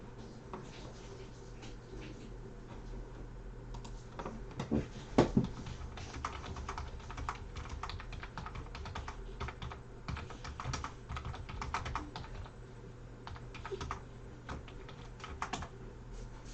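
Computer keyboard typing, steady irregular clatter of keystrokes close by throughout, with a few louder taps and no speech.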